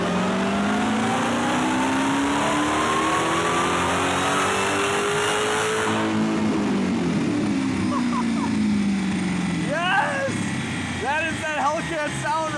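A supercharged Dodge Hellcat engine revs on a dyno, climbing steadily with a rising supercharger whine, then drops and surges again in several loud bursts, close by.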